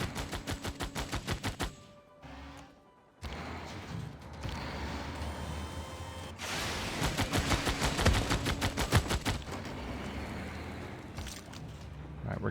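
Machine gun fire in Civilization VI: rapid rhythmic bursts of automatic shots, then a dense stretch of battle noise with another run of rattling fire, loud and close, with a voice talking faintly in places.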